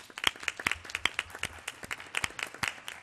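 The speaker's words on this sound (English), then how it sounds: "we want to give you applause for raising a great daughter as well" An audience applauds a father for raising a great daughter, with sharp, distinct hand claps in an uneven, fairly close pattern, moderately loud and without speech.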